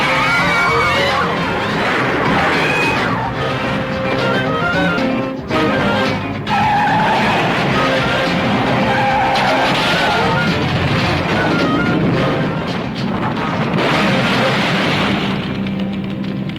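Loud, continuous vehicle roar with screeching tire skids and braking from a movie scene, a busy chaotic mix lasting throughout with a brief dip midway.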